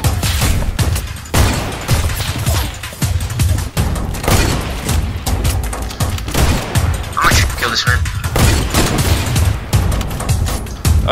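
Rapid sniper rifle shots in a multiplayer shooter game ring out again and again, loud sharp cracks with booming tails stacked over eleven seconds amid constant battle noise.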